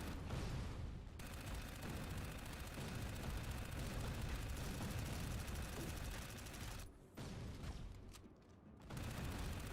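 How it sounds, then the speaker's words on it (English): Turret fire in the video game Dark Void, a dense barrage of rapid shots and booms that is nearly continuous, briefly dropping out twice before resuming loudly. "there are turret shots coming in from somewhere"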